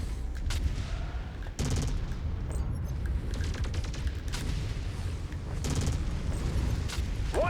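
Weapons fire in the MechWarrior 5 video game destroys an enemy mech: dense, overlapping blasts and booming impacts roll on continuously for several seconds, loud and close, with no voices.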